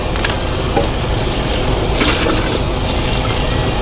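Hot water runs steadily from a tap to rinse out a drinking cup at a stop on a trucking trip, a continuous close splashing hiss with no talk.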